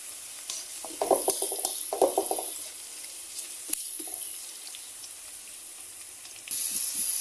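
Ginger sizzling in hot oil in a pan while sautéing for ginisang mongo, a steady close hiss with short bursts of crackle and spatter early on, then a quieter simmer before the frying swells again at the end.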